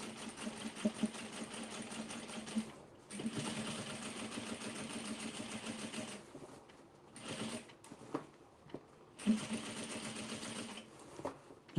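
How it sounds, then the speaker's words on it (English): A sewing machine runs steadily, stitching a seam on the base of an oversized denim tote, with a dense mechanical whir that pauses briefly twice before resuming, close and alone without talk. "sewing my seam of the base open all the way to the other side"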